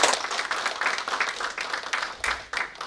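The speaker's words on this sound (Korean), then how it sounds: "큰 박수로 부탁드리겠습니다" An audience at a university forum applauds steadily, a soft continuous wash of many hands clapping heard from a distance.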